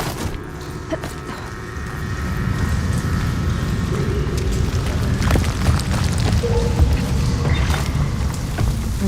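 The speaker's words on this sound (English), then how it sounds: "An explosion?" A deep, rumbling blast echoes inside a mine in the video game Horizon Forbidden West, the low boom swelling into a sustained heavy roar with scattered debris clatter.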